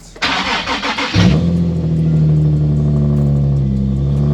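Nissan 370Z starting up just after an oil change: a short cranking whir that catches into a loud, close engine, then settles into a steady, even idle with no voices.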